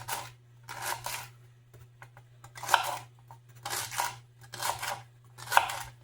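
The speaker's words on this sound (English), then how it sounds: "I love celery in my sloppy joe. And I'm going to cut it kind of fine." A knife chops celery finely on a board for buffalo burger sloppy joes, making about six bursts of quick, crisp cutting strokes separated by short pauses, close and clear over a steady low hum.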